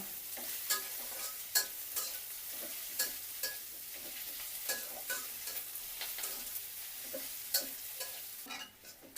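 Onions fry in a pan while being stirred steadily, with a soft continuous sizzle and repeated scraping strokes up close; no one speaks.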